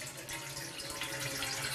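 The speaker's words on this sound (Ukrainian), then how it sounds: "З першого погляду з крана тече звичайна чиста вода." Tap water running steadily into a sink in a village home in Zhytomyr region where the supply is contaminated, a continuous broadband rush with no voices over it.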